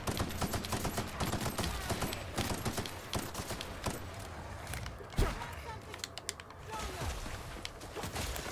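Rapid, steady gunfire from The Outer Worlds sci-fi shooter game rattles on continuously, close and busy, with one sharper loud shot standing out near the middle.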